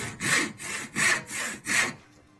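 A hand saw cuts through wood in about five even back-and-forth strokes, close and loud with a rasping texture, then stops.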